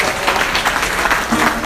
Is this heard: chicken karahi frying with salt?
no